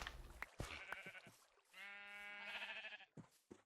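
Sheep bleating in Minecraft, a long harmonic bleat standing out clearly in the middle, with shorter bleat-like calls before and after it.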